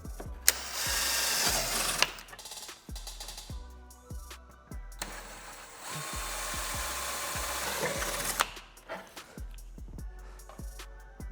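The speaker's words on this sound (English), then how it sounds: "Drilling the 2 pilot holes." Bursts of a high-pitched power drill whining through a thin rear diffuser panel on a C8 Corvette, drilling pilot holes in several short runs separated by pauses and clunks, close up with no talking.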